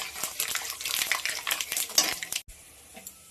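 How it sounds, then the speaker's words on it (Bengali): Panch phoron and dried red chilies dropped into hot oil, a busy crackle and spatter with utensil clinks and stirring, then a sudden cut to a quieter, softer sizzle; no voices. "তেলটা গরম হয়ে গেছে, আমি দিয়ে দেবো পাঁচফোড়ন, সাথে দিয়ে দেবো শুকনো লঙ্কা ফোড়ন।"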